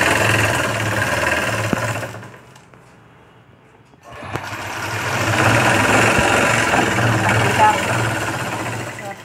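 An electric sewing machine stitches a puff sleeve seam in a steady, loud mechanical whir. It pauses briefly partway through, then resumes with a dense, buzzing run.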